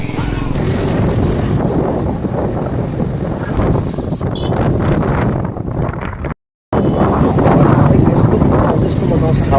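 Strong wind buffets the microphone during a ride outdoors, a loud steady roar with a short dropout partway through.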